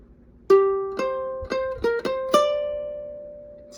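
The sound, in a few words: ukulele playing solo, first half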